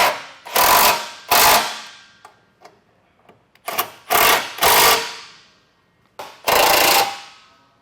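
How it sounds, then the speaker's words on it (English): Ratchet tightening the mounting hardware on Westin Outlaw running boards for a 2023 Toyota 4Runner, heard as several separate bursts of quick clicking strokes with short pauses between them, close and fairly loud with no talking. "as I go to tighten that hardware"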